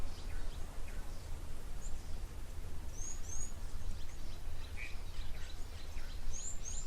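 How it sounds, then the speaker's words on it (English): A green-backed camaroptera calls faintly in the distance, brief high chirps scattered over a steady low rumble of outdoor ambience at a waterhole. "Hear the green-backed Cameroptera calling in the background."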